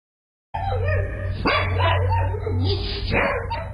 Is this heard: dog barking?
yes